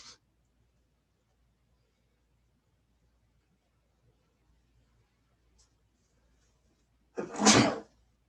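A single loud, close sneeze bursts out after a long near-silent stretch during a push-up workout, sharp and brief with nothing else around it.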